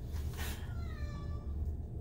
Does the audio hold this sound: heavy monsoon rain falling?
no